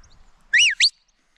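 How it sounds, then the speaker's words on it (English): Two quick close whistle notes make up a border collie sheepdog come-by command. The first is a longer rising-and-falling swoop, the second a short sharp blip, both loud and clear with no voices. "This will be the come by whistle."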